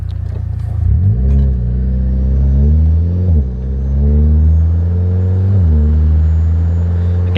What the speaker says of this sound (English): I can definitely hear the intake way louder than what I was rocking before.